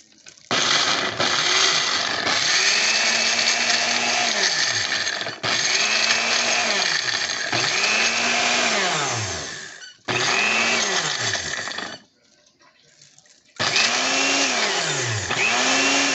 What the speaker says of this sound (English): This is a 6-speed blender.